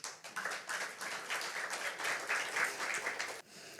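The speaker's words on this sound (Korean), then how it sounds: "다시 한번 박수 주십시오" Audience applause during a lecture, a modest crowd clapping steadily at moderate volume for a few seconds before tapering off near the end.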